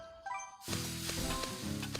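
In the mobile cooking game Cooking Madness, a short run of chime-like tones gives way to loud, steady sizzling of food on a hot grill with small crackling bursts, heard alone.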